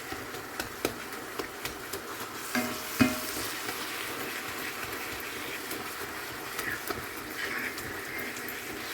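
Cooked tomatoes and boiled toor dal are mashed and stirred in a pan, giving soft continuous scraping and squishing with a few light knocks near the start and one firmer tap midway.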